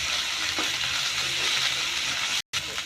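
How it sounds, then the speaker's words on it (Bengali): Ginger garlic paste frying in hot oil while being stirred, giving a steady, close hiss of sizzling that runs without a break until a brief cut near the end. No voices are heard. "আদা রসুনটা একটু তেলে ভালো করে ভাজে নিব"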